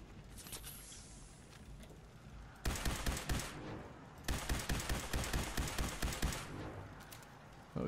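Rapid bursts of turret gunfire in the video game Fallout 4, two long stretches of fast repeating shots separated by a brief pause, fairly loud over a quieter game background.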